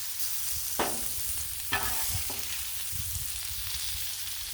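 A turkey burger sears on a Blackstone griddle with a loud, constant close sizzle, and a few scraping spatula strokes cut through it.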